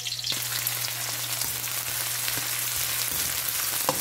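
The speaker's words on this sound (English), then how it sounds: "So I'll have to add both of my garlic and green onions" Chopped garlic and finely chopped green onions sizzle steadily in a hot pan with oil, a continuous close frying crackle that stays level throughout, broken only by a few faint clicks near the end.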